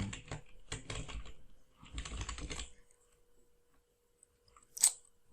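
Bursts of quick tapping on a computer keyboard, close and fairly quiet, three clusters of keystrokes separated by short pauses, then a single sharper click.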